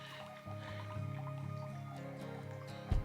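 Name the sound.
water dripping and trickling at a water source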